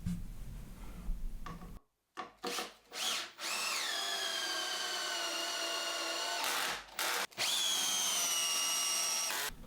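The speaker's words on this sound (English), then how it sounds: "I then drill some holes so I can get some screws in to attach this to the base." A power drill whines close and loud as it bores holes into a wooden base. The bursts are separated by brief stops, each with a rising motor pitch and a steady, grinding cut.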